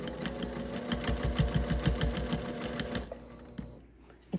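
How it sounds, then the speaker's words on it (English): Sewing machine running steadily for about three seconds as it stitches over the handle of a quilted gift bag with pink thread, then stopping, followed by faint handling noises. "I'm gonna sew right over this part of the handle"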